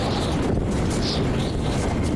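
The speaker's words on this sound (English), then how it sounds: "Very windy up here." Strong wind roars steadily through an elevated outdoor area in the video game Metro 2033 Redux, a continuous loud broadband rush with no breaks.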